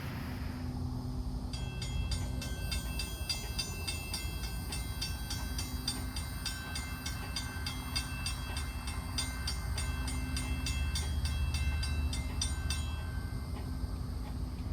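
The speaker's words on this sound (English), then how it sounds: "The 7032 sweeps around the bend with its short train as it heads to its first stop at Chemical Systems in Zellwood." Florida Central Railroad freight locomotive 7032 passes with a short train near Apopka, Florida, a low steady rumble joined by a long sustained multi-tone horn blast that fades as it moves on.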